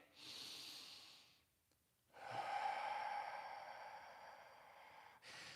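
Slow deep breathing into the stomach, a long airy inhale, a pause, then a drawn-out exhale, close and soft, with another breath starting at the end.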